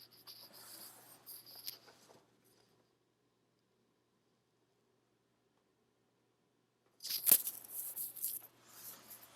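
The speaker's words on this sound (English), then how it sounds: "As I'm sketching in this curve" A pencil sketches a curve on paper in soft scratchy strokes, faint and close, with a long silent gap between two bursts of drawing.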